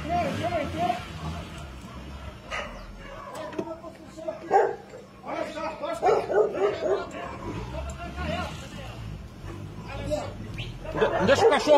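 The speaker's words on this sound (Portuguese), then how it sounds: "Não deixa o cachorro chegar ali não, Gil." A dog gives several barks and yips amid excited chatter from nearby people talking over one another about a loose jaguar in a Brazilian town.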